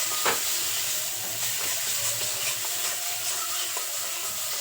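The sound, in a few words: spices frying and being stirred in a pan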